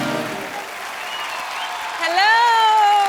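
Studio audience applause on a comedy talk show stage, a broad sustained clatter of clapping that swells near the end, with a sung or held tone rising over it in the final second.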